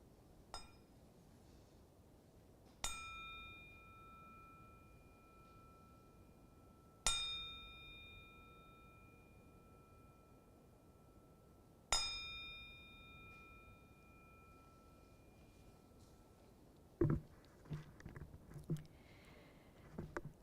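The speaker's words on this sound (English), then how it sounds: "I will ring the bell gently 3 times to get us started" Meditation bell struck gently three times during a worship service, each clear ring at a steady interval and left to fade slowly into quiet, followed by a brief soft clatter.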